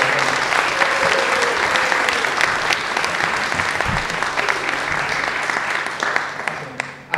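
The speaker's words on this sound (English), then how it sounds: "let's give a huge round of applause for Charles" Sustained audience applause fills a film premiere venue, a dense steady wash of clapping from a large crowd that holds for several seconds before tapering off at the end.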